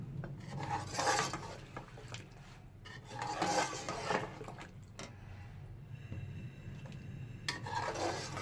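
Flour being mixed into beef nihari in a pot, with close, continuous scraping and clattering of a spoon against the metal in repeated bursts, fairly loud and with no voices.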